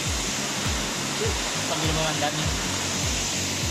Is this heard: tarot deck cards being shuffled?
no